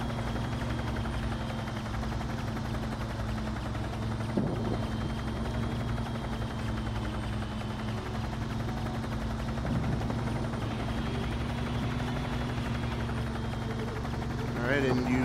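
Helicopter lifting off in the video game Dustoff Heli Rescue 2 on Xbox One, a steady droning rotor and engine hum running throughout with faint thumps, under a voice talking.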